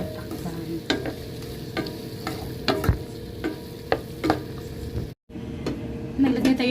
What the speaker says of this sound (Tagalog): Naglagay tayo ng oil guys dito sa pan natin, and then ilagay na natin ngayon yung garlic, ginger, and onion.